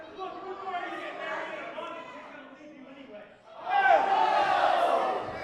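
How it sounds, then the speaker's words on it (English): Wrestling crowd at an indoor show chanting for David Ali, a rhythmic mass of voices that dips midway then swells louder, with a commentator's voice running over the crowd. "I do hear some chants for David Ali as well"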